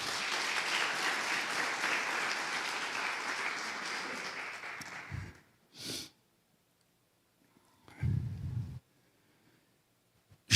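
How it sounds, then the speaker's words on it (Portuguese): Congregation applauding for Jesus during a church service, a broad sustained clapping that fades out around five seconds, followed by brief sniffs and breaths in near silence. "Aplauda Jesus, querido."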